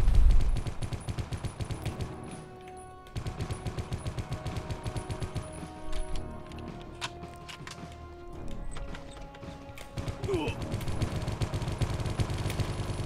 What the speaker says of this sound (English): I'm just gonna fire off.